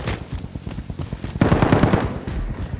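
Fortnite gunfire, rapid close automatic bursts crackling in quick succession, with a heavier volley in the middle of the clip.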